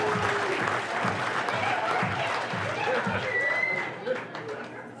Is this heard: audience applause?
yes